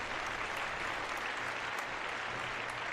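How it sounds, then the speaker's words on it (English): Steady, dense applause from an audience fills the whole stretch at an even level during an open-line radio call-in show about the paranormal, with no pause and no talk over it. "And a big round of applause for Bobby."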